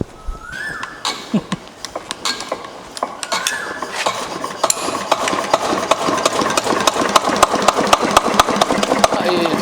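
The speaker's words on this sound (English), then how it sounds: "So now we start the engine" A Wittie engine starts and runs, its rapid regular knocking and clattering strokes building in speed and loudness into a steady mechanical chatter heard close up.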